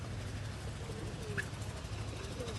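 On a rooftop, faint, low pigeon coos drift in a couple of times over a constant windy background hum.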